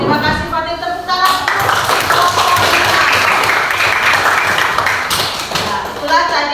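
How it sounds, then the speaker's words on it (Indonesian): Classroom applause after a student group presentation, a dense burst of many hands clapping that swells and then fades, with voices at the start and end. "Terima kasih Fatih, tepuk tangan."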